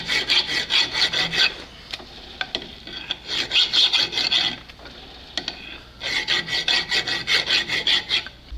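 Rhythmic rasping strokes of a hand file on a metal part, in bursts of quick back-and-forth passes separated by short pauses, close and clear.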